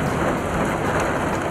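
Torrential rain pours down in Lahore, a dense, steady hiss of heavy downpour with no pauses, loud and close throughout the brief moment.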